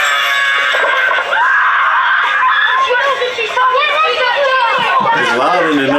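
Kids scream in a scene from The Goonies, with shrill overlapping shrieks and excited chatter that build toward the end.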